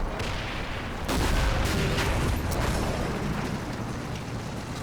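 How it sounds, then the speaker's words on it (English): PIAT anti-tank rounds fired at an armoured panzer with skirt plating in Combat Mission, heard as a dense, continuous wash of booming gunfire and blasts, loudest mid-clip, with no speech. "Piat teams open fire, but the armour skirts protect the panzer."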